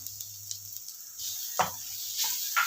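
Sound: cumin powder sizzling in hot oil

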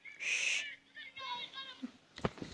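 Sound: bird hooting in video game

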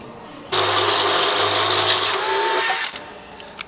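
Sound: drill boring holes in thick truck frame metal

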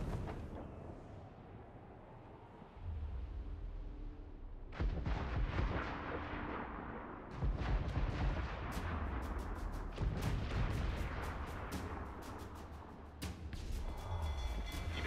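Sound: gunfire shooting at the ship in Assassin's Creed Black Flag, a video game

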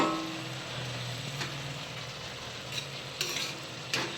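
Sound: stirring cabbage and potato sabzi with crushed peanuts

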